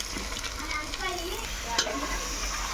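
Chicken pieces with masala and ginger paste fry in a pan for a Telugu chicken curry, giving a soft, steady sizzle under scraping stirs.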